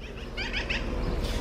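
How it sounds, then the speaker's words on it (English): Scissor-tailed flycatchers give a few short, high chirping calls outdoors, fairly close, over a steady background rumble. "No, I think they're scissor-tailed flycatchers."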